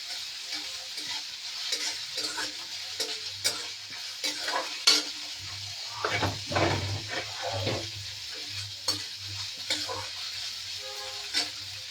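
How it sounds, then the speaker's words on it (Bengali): Onions fry in a pan with ginger-garlic paste, sizzling softly while a spatula stirs and scrapes in irregular bursts, close and moderately loud. "পেঁয়াজটা ভাজছি,"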